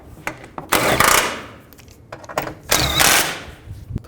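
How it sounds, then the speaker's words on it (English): Bolts being tightened on the transmission cooler line cover of a 2000-06 GMC, in two bursts of rapid ratcheting clicks up close, separated by short pauses and lighter tool taps. "And tighten these bolts down."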